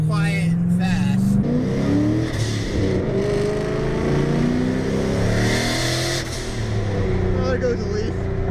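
Dodge Charger Scat Pack engine revving loudly, a deep rumbling idle that swells with throttle blips, close and steady, with a person talking over it.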